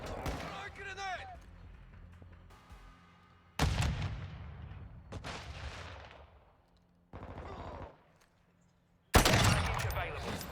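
Call of Duty Modern Warfare 2 combat erupts in loud bursts of rapid gunfire and heavy booms, with abrupt cuts between intense volleys and quieter stretches, while game radio voices talk.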